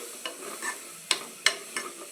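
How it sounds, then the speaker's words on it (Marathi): A spice tempering of turmeric and red chili is stirred and roasted in a pan, giving a faint sizzle under a handful of soft, irregular scraping strokes, with no one talking. "पूर्ण आणखीन एकदा फोडणी अशी भाजून घ्यायची"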